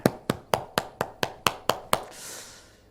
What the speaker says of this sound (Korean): 감사의 마음을 담아 박수로 화답을 하겠습니다